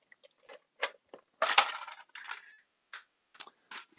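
A drill bit box lid being opened: a series of short clicks and plastic clacks, with a louder rattling burst in the middle and a few sharp snaps after, close and alone with no talk.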